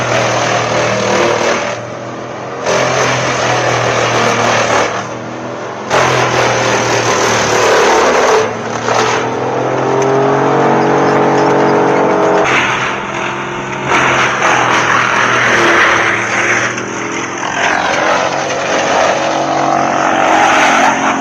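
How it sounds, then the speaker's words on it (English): An industrial wood chipper shreds logs into chips with a loud, continuous mechanical roar. Its engine tone surges and dips in pitch, broken by a few brief drops in level, and no one speaks. "the chipper takes less than a minute to turn it into hundreds of wood fragments"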